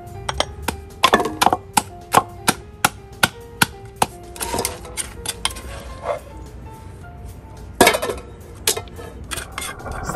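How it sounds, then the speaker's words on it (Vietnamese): Crab being pounded with salt in a mortar for a Northern Vietnamese crab noodle-cake dish: a run of sharp, close knocks with clinking tones, fast and regular at first, then sparser and uneven, with no talk. "Mình sẽ cho một ít muối vào cua để mình giã cho nó đỡ văng."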